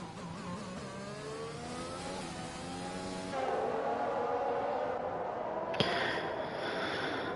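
Engines of a pack of open-wheel race cars in a Brazil racing video game league, a dense whining, revving drone of several cars bunched together with shifting pitch, steady and loud with a brief sharp click near the end.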